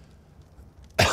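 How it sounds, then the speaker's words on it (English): A single short, sharp cough from a person with a lingering cough, loud and close after near silence. "So I got a bit of a cough."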